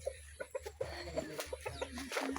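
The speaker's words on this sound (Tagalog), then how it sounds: "Ang dami manok nila." Chickens clucking on a farm, close and fairly quiet, a rapid run of short clucks and squawks over low background rumble.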